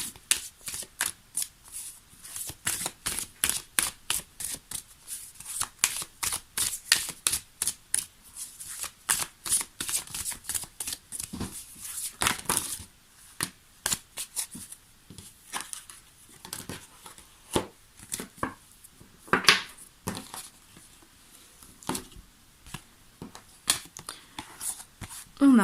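Tarot cards are shuffled and drawn in a quiet room, with a long run of rapid, crisp riffling bursts in fast rhythm, then slower flicks and slaps as single cards are pulled and laid down.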